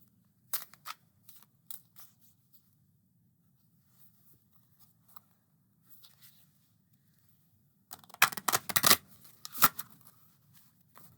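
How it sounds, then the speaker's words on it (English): An oracle card deck of narrow 5 by 3 cards, The Witching Hour Oracle, is shuffled by hand. Soft scattered riffles and taps come first, then a louder, denser burst of rustling shuffles near the end. "Shuffle's really nice."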